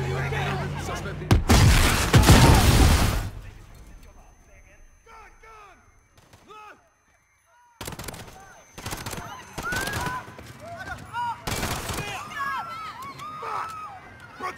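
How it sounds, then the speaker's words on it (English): Gunfire erupts in a Piccadilly Circus street fight in Call of Duty Modern Warfare (2019), with a loud opening burst followed by further bursts of shots amid shouting voices and radio chatter. "Shots fired."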